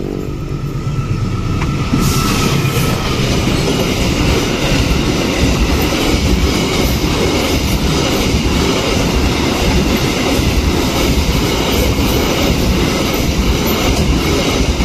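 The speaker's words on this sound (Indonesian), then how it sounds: "itu dia tadi kereta api angkutan batu bara, ngebut banget ya." A fast coal freight train thunders past close by, with continuous loud rumbling and rhythmic clickety-clack of wheels over rail joints.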